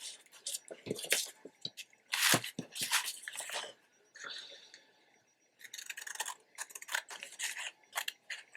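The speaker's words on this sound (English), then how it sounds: "So I'm just going to cut it out." Scissors snip through paper for a brown paper journal page in a series of close, crisp cuts in uneven bursts, with brief pauses and a quiet gap in the middle.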